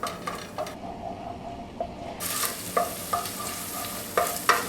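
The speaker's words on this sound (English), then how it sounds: "there's our curry paste frying off nicely" Curry paste sizzles in a hot pan while a utensil stirs and scrapes against the metal, with occasional clinks over the steady frying hiss.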